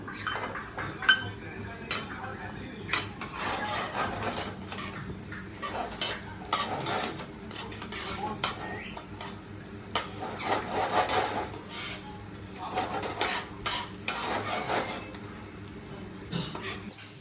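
Butter melting in a pan for pasta sauce while a spoon stirs it, producing a faint sizzle under repeated scraping and clinks against the metal pan, close and intermittent.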